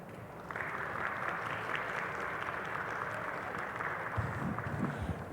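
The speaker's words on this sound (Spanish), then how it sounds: "para quienes les pedimos un fuerte aplauso" An audience at a book presentation applauds to welcome the speakers, a dense, even wash of clapping lasting the whole time, with a few low thumps near the end.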